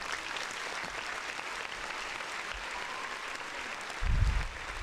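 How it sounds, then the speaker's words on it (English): A studio crowd on a podcast set gives a round of applause, a steady even patter of clapping that continues for several seconds, with a low thump near the end. "Now, round of applause."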